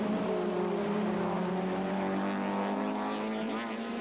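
Supertouring race cars at Killarney in 1993, including a BP Nissan Sentra and an Opel Astra, a loud continuous engine drone with rising and shifting revs, heard close as if from onboard.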